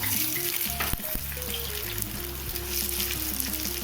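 Garlic, ginger and capsicum sauté in a hot pan with a loud continuous sizzle and frying crackle, a utensil stirring and clinking against the pan now and then.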